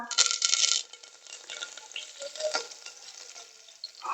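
Cumin seeds and curry leaves hit hot oil for moong dal khichdi, starting with a loud burst of crackling sizzle that quickly settles into quieter popping and spitting, close by with no speech.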